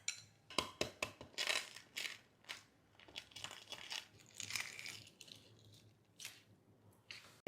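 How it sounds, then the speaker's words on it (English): Hard-boiled eggs being peeled for Mexican egg salad: close, quiet crackles and crinkling taps of shell breaking in irregular bursts, with soft pauses between. "Now we can peel our eggs."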